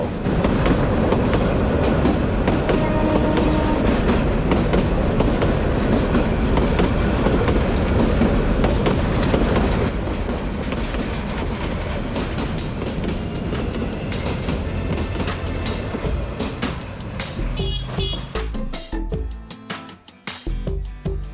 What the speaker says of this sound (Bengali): মাঝে মাঝেই ছুটে চলে ট্রেন, ঝকঝক শব্দের চারপাশে ছড়িয়ে দেয় এক অদ্ভুত রোমাঞ্চ